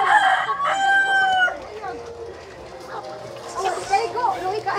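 A rooster crows loudly nearby, followed by ready-to-lay pullets clucking and squawking during a backyard farm delivery, with people talking in the background.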